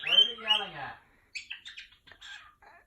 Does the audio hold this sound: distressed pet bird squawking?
yes